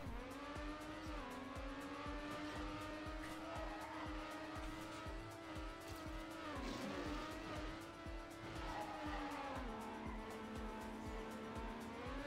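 A race car in TrackMania's Stadium environment drives with a steady, buzzing engine whine that rises and dips with gear changes, and tyre squeal comes in briefly partway through.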